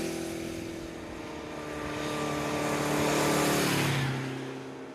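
A Honda CB750 Four cafe racer's four-cylinder engine hums at a steady pitch, swelling louder toward the middle and then easing off, like a motorcycle passing close by.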